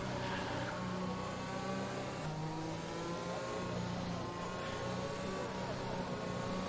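A race car engine in the F1 2021 video game drones and revs steadily while warming the tyres, a continuous buzzing tone with slowly shifting pitch and a faint voice underneath.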